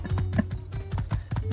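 Horse hooves clip-clopping in the video game My Time at Sandrock, a quick, steady run of close, distinct hoofbeats with no talking.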